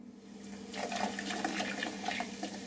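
Vinegar poured from a bottle into a toilet bowl with hard-water stains: a close, continuous splashing and gurgling of liquid lasting a few seconds, steady and fairly loud, with no talking.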